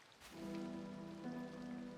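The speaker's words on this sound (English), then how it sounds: "The sound of downpour is echoing in the deepest part of her memories and mind." A steady rain downpour in the video game Punishing Gray Raven hisses continuously, blended with sustained tonal music that swells in after a moment.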